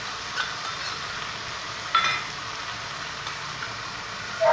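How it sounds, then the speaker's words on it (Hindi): Noodles stirred with soy, chili and tomato sauces in a hot pan, a steady soft sizzle with a few light scrapes and clinks of the spoon, close by and fairly quiet, no talking. "और चलाइए। आराम से चलाना, ठीक रहेगा।"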